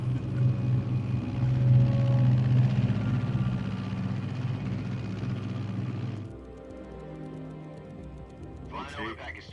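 In the video game Metal Gear Solid 3, an aircraft in flight gives a low, steady engine drone that fills the first part, then drops away, with a voice talking over it.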